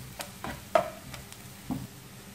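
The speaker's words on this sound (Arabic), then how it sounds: "الآن نضيف الثوم. ونحرك تقريبا لمدة دقيقة." A few soft scraping stirs of a utensil through garlic frying in a pan, faint sizzling underneath, with scattered light clinks and no talking.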